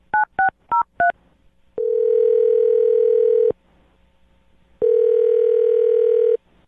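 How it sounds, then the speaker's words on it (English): Four quick touch-tone beeps from a phone keypad being dialed, followed by two long, steady ringback tones separated by a pause, clear and close. "Dial his phone number right now."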